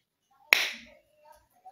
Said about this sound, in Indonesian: kalau misalnya kita tepuk lagi